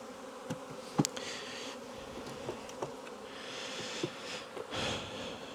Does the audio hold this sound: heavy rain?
no